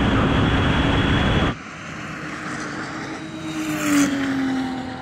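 A Porsche 911 Turbo accelerates hard in a drag race, its engine roaring loud and close at first, then dropping abruptly to a lower, steadier drone with a rising whine near the end.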